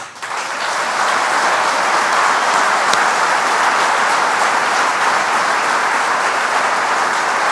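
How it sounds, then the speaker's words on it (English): An audience at a governor's jobs announcement breaks into loud, sustained applause, a dense, unbroken roar of clapping that holds steady for over seven seconds with no talk over it. "I appreciate the applause"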